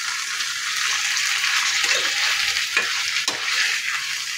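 Chicken fry stirred in a pan, a loud, continuous hiss of frying with a few soft utensil scrapes and knocks, close up and without any talking.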